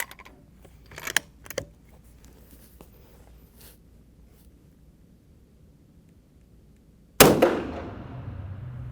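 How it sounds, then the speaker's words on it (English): A single rifle shot fired at a boresighting target cracks sharply near the end, its loud blast trailing into a short decaying rumble after several quiet seconds of faint handling noises. "I'm going to fire another shot at that boresighting target to confirm where we're at."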